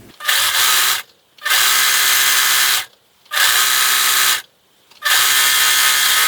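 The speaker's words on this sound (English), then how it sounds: "you're going to sew this long edge with either a zigzag stitch or a serger and a 3/8 inch seam allowance" Sewing machine or serger running a zigzag seam along the long edge of a fabric headband, in four loud sustained bursts of steady motor whir separated by short silent pauses, close by.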